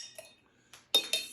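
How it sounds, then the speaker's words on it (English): A metal utensil clinks against glassware while a solution is mixed, giving a few sharp, bright taps separated by short pauses, close and clear with no voices. "mix it for about a minute"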